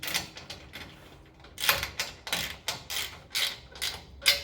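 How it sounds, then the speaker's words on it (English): Wrench turning the mounting bolts on a Ladder Traxx ladder rack, a series of distinct metallic clicks and clanks in an irregular rhythm, close and moderately loud, with no talking. "Go ahead and give them a couple turns with the wrench."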